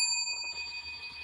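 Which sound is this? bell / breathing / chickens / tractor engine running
bell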